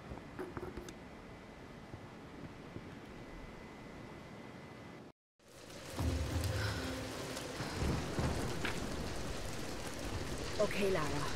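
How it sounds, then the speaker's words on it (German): Steady rain with low thunder rumbles from a storm in the video game Tomb Raider, quiet at first, then heavier after a brief silent gap, with soft booms underneath. "Wir nähern uns dem Sturm."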